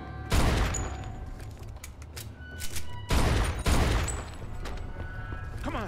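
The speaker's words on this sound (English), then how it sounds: "They're shooting at me, for Christ's sakes." Gunfire from the video game Mafia 2 crackles in sharp bursts, two dense volleys of rapid shots separated by scattered single reports and mechanical clatter, fairly close and moderately loud.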